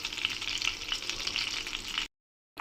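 Cumin and mustard seeds crackle and sizzle in hot oil as a tempering for raw mango and tomato chutney, a steady close frying hiss with small popping bursts that stops abruptly near the end.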